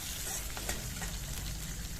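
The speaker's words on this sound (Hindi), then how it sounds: "इसी में मैं थोड़ा सा जीरा डाल दे रही हूँ, और लहसुन का तड़का मार के बस इसी में थोड़ा देर इसको पकाएंगे" Cumin seeds and garlic sizzle steadily in hot mustard oil in an iron kadai, a dense continuous crackle with no voices.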